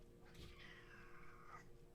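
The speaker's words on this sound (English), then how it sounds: "My cat is very unhappy with me right now." An unhappy cat lets out a single drawn-out, wavering meow lasting over a second, heard close but fairly quiet against a faint steady background hum.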